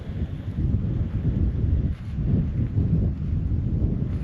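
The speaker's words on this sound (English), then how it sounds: "Just get this wind to lay down a little." Wind gusting across a night desert campsite near a freshly pitched tent, a steady low rumbling roar buffeting the microphone, loud and continuous with slight surges throughout.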